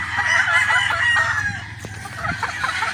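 A Boston Roundhead gamecock rooster crows in a long, loud, drawn-out call close by, with clucking fowl and steady farmyard noise underneath.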